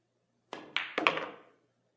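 A billiard cue strikes the cue ball just below center for a straight-on stun shot toward the side pocket. It is one faint, sharp tap, followed by a few light knocks that quickly fade, with no talk.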